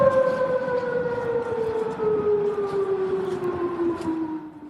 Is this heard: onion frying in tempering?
no